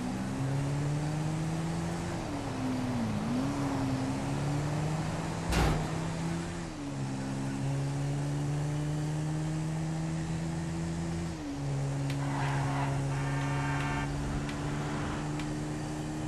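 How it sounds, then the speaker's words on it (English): A quad bike engine drones in the video game GTA V as it is driven recklessly, a steady low buzzing hum that dips and rises with throttle changes, with one sharp knock around the middle and some rattling later. "I'm probably just going to drive around recklessly on this quad"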